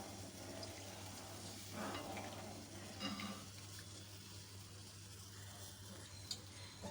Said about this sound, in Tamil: இப்போ இதை ஒரு தடவை அப்படியே கலந்து விட்டுக்கலாம்